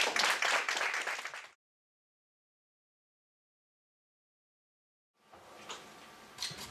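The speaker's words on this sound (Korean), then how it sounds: "박수를 모셔주십시오" Audience applause at a company open house, loud and dense at first, then cut to silence, before softer clapping returns near the end.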